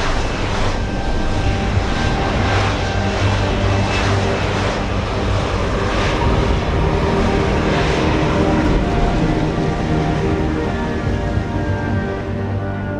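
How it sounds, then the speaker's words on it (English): Airplane landing in a Deus Ex: Human Revolution cutscene, a steady loud engine roar with broadband rumble that holds constant and close for the whole stretch, with no voices over it. "Wonder why they even have this cutscene just so that they can land this plane."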